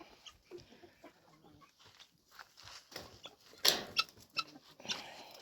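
Hens cluck and squawk in a farmyard as they rush to feed scattered by rabbits, a burst of louder flapping and squawks in the middle, with soft scattered clucks around it.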